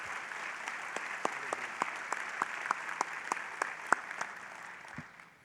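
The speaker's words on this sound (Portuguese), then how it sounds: "Vamos aplaudir a palavra do Senhor." A church congregation applauds, rhythmic unison clapping at a moderate distance that keeps a steady beat for several seconds and then stops.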